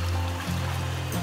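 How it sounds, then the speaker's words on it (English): A natural stream of running water in the Welsh countryside, with a steady, close rushing flow and a low continuous burble that stays even throughout. "So natural running water, perfect for a great cup of tea"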